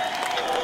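Studio audience at a Persian-language speed game show applauding and cheering, a dense, steady wash of clapping and crowd noise filling the brief moment.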